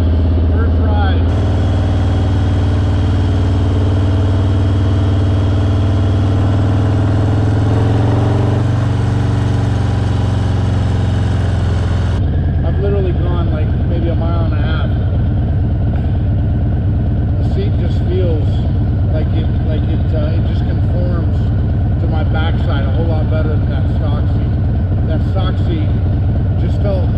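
A 2019 Harley-Davidson Heritage motorcycle engine on its first ride: a loud, steady low rumble for about twelve seconds, then a shifting, uneven drone with rising and falling revs to the end.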